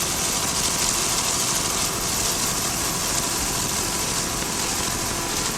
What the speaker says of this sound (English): A 33-foot Phantom powered by two 500-horsepower Mercury inboards